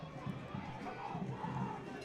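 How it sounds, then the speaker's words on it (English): Crowd at a high school football game in Sinton during the third quarter, a broad groan from the stands over a referee's call, a steady murmuring swell that rises and falls across the two seconds. "Big groan. You can tell we're in Sinton as that crowd doesn't like that call."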